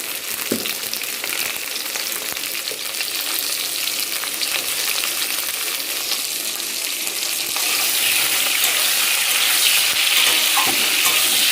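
Pointed gourd frying in hot oil in a pan, a steady close sizzle and crackle that grows slightly louder partway through, with occasional stirring clinks and no talk.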